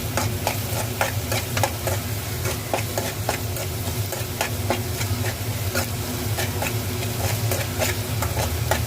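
Onion fries in a pan while a spoon stirs it continuously, giving rhythmic scraping clicks over a dense, steady sizzle and a low background hum, close and fairly loud, with no talking.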